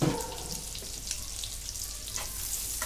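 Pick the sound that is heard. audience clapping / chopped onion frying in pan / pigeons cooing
chopped onion frying in pan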